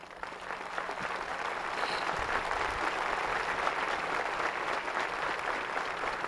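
Large crowd at a Cuban political tribune delivers sustained, dense applause, an even roar of many hands clapping that holds steady throughout at moderate loudness.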